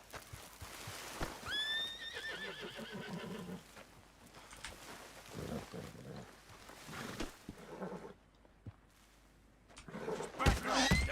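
A horse in Red Dead Redemption 2 lets out a loud, shrill whinny, followed by snorts, restless hoof clops and shuffling, then a second sharp burst near the end, with faint game ambience underneath.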